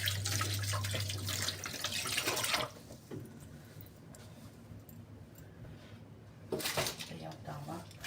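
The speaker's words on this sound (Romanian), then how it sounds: "Să mă spăl pe mână." Hands are washed under a running kitchen tap. Water gushes for a couple of seconds, falls to quieter sounds with a voice in between, then briefly gushes again near the end.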